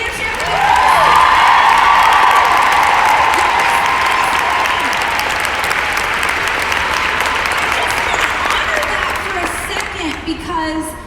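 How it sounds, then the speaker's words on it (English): Loud, sustained applause and cheering from a large crowd at a dōTERRA leadership retreat, swelling quickly with whoops and shouts over the clapping, then gradually thinning out. "Can we clap for people who are at leadership for the first time?"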